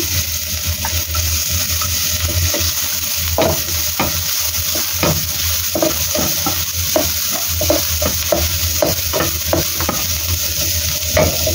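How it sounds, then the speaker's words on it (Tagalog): Garlic sautéing in oil in a wok, a steady loud sizzle running throughout with repeated scraping stir strokes at an uneven rhythm, close up and with no talking. "Lagyan natin ng oil yung ating wok. Isa tayo ng bawang."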